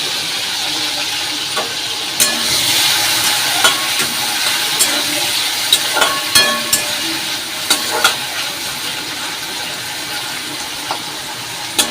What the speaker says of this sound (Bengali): এই তেলেই না এই চিংড়ি মাছ, এই যে নুন হলুদ মাখিয়ে রেখেছি, এই চিংড়ি মাছগুলো দিয়ে দেবো